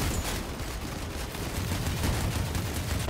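Continuous autocannon fire in the vehicle combat game Crossout forms a dense, rapid stream of gunfire with a muffled, rumbling layer of battle noise underneath.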